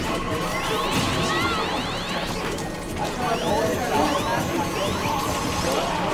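Mewtwo's up smash and forward air attacks in Super Smash Bros, rapid whooshes and hit impacts over the busy crowd and game noise of a doubles tournament match, with a commentator talking throughout.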